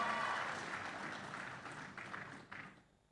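Audience applause at a large mass home-ownership contract signing ceremony in Indonesia: a dense, steady wash of many hands clapping that gradually thins and fades toward the end.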